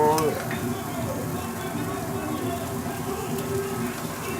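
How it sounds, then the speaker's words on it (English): Steak sizzles steadily over a hot fire, a dense continuous crackle and hiss that stays loud and close for the whole stretch with no voices. "We got some more cooking to do. Keep flipping the steak."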